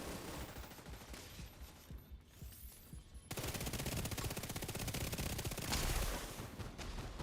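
Rapid turret gunfire rattles in The Division 2, a fast, even stream of automatic shots that kicks in partway through and carries on steadily at moderate loudness, following quieter game ambience with a few scattered shots.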